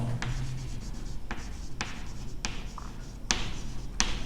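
Pen or pencil writing out a maths answer by hand, with short scratchy strokes broken by about six sharp taps or lifts of the pen, steady and close with no talking.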